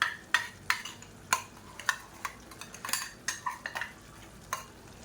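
A spoon stirs ground masala paste of shallots and spices into chicken frying in a pan, with repeated sharp scrapes and clinks against the metal over a faint sizzle.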